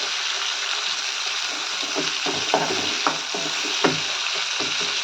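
Tomato sautéing in a pan for a Tamil kuzhambu, a steady soft sizzle with a few brief stirring scrapes and clinks, close and alone.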